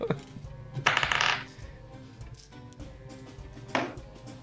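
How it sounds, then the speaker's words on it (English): Dice are rolled on a table during a tabletop role-playing session: two quick clattering bursts close by, a sharp one near the start and a shorter one later, separated by quiet room tone. "I gotta get my dice out."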